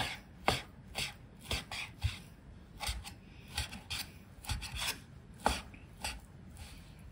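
Chef Kiyomi Mikuni chops sinewy beef for steak haché with a knife on a cutting board, quiet, irregular thuds and scraping strokes landing in uneven bursts, with no talking.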